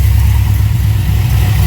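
A cold car with a swapped engine idles in a shed, a steady low rumble that stays loud and even throughout with no voices.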